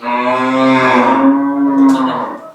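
A cow on a farm gives one long, loud, close moo that holds steady for over two seconds before fading, with no voices present.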